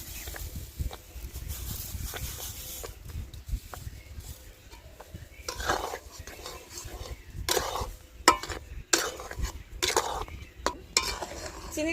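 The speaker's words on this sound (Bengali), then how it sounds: "এইবারে আমের পাল্পটাকে ঘন ঘন নাড়তে থাকবো" Raw mango pulp being stirred with sugar in a kadai for village-style aamsatta: soft scraping strokes of a spatula against the pan, with light bubbling sizzle beneath, growing more frequent and louder in the second half.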